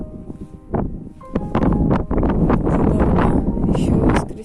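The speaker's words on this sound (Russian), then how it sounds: "Сегодня поднялся очень сильный ветер." Strong northern wind near the Barents Sea buffets the microphone in loud, continuous roaring gusts that build after the first second and hold steady, with some rustling mixed in.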